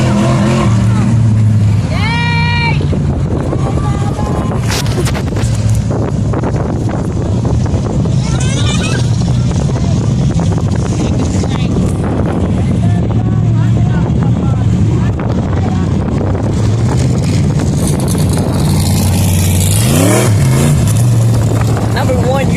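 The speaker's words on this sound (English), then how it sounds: "Just seeing cars going around in a circle." Race cars roar around a dirt speedway oval at Big O Speedway, continuous loud engine noise with passes sweeping by and wind buffeting the microphone, while people talk nearby.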